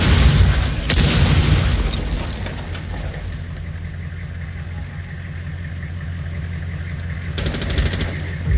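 A breaching charge goes off in Rainbow Six Siege, a loud booming blast early on followed by a long rumbling, noisy decay and a further rush of noise near the end.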